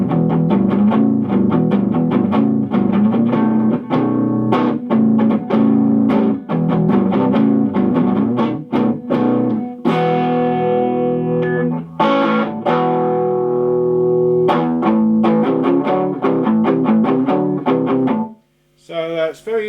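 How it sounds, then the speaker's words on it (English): Harmony H75 electric guitar played through the bass pickup with palm muting, giving a loud, continuous run of short, chugging strummed chords with some distortion, a brief ringing passage in the middle and a quick stop near the end. "you can flick to the bass one to get a really nice bass tone, especially if you palm mute as well"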